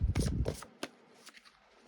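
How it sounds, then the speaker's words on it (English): Tarot cards are shuffled by hand just below the camera, with a few soft riffling bursts near the start and then scattered light card taps. The shuffling fades under quiet room noise. "I am still live shuffling, just a little, like literally right below the camera."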